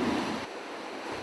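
Big Pacific surf pounds the shore between Pacific Grove and Mavericks, a brief, loud, broad roar of breaking water and wash with no voices.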